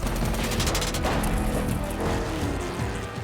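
Rapid automatic gunfire fills an action sequence from the Furious 7 film, dense cracking bursts mixed with booms and crashes, loud and continuous throughout.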